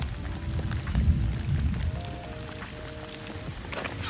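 Rain falls steadily on a camping tent at night, a dense close patter with a low rumble early on and no voices.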